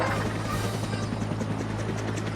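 A helicopter in a waterpark video game gives a loud, continuous rotor drone with a steady low throb lasting throughout.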